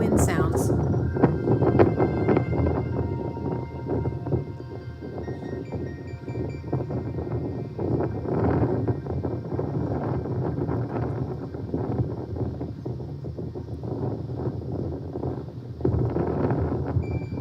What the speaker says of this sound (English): you'll have to deal with the wind sounds